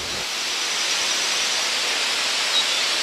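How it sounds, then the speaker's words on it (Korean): A waterfall on Myohyang mountain roars as a broad, steady wash of noise, even and continuous without a break, with no voices over it. "장쾌하게 울리는 폭포 소리"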